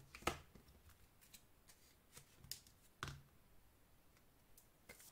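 A deck of tarot cards is cut and shuffled, giving a few sharp riffling snaps and soft slaps spaced across a quiet room, close and moderately loud, with no talking.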